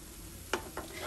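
Arabic bamieh dough fries in hot oil with a steady soft sizzle, broken by two brief brighter splashes as oil is spooned over the pieces and they are turned.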